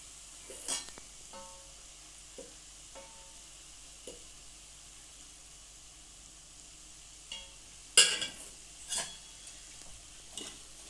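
Fried garlic curry stirred with salt and chilli powder in a pan, sparse close scrapes and clinks of the spoon over a faint sizzle, with a louder cluster of strokes near the end and no talking.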